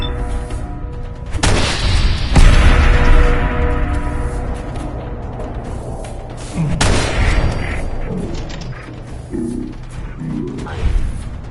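Firefight in Fallout 4 with heavy booming shots and crashing impacts, loud and close, fading into lingering rumble and scattered mechanical clatter.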